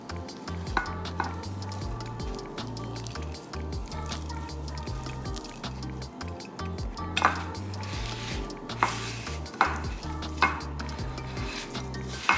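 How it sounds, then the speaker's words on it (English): A small pot of pot roast ingredients being stirred, with a spoon scraping and clinking against the pot over a steady sizzle, in close, rhythmic strokes and occasional sharper knocks, and no voices. "And then we're just gonna give that a little bit of a stir."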